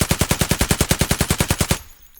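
UMP submachine gun in Escape from Tarkov fires a rapid burst of about seventeen evenly spaced loud shots, close and sharp, then stops abruptly into a short fading tail.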